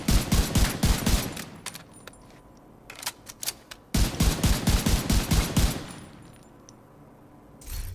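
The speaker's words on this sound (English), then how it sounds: "I'm just going to fire without controlling my right analog stick to show you the natural recoil pattern." An M1A CQB rifle in The Division 2 fires rapidly in two long bursts of sharp, closely spaced shots, each followed by a quieter pause and fading echo.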